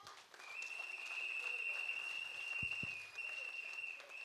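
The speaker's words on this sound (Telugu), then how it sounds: "క్లాప్స్." An audience applauds at a business success ceremony, a quiet, sustained patter of clapping with a steady high whistle-like tone ringing over it.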